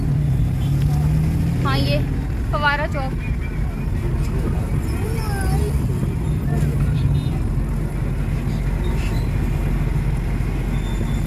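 Traffic stands jammed with cars and loaded rickshaws in Raja Bazaar near Fawara Chowk, a constant low engine rumble and street din with scattered horn toots, while someone talks briefly over it.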